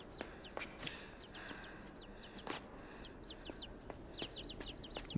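Chicks chirp in quick, high bursts in the video game Inside, over a low rumbling background, with a few sharper clicks scattered through.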